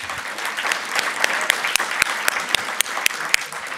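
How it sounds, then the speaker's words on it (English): A congregation claps enthusiastically in a church service, the dense applause punctuated by several loud, sharp individual claps standing out near the front. "Give God a hand clap."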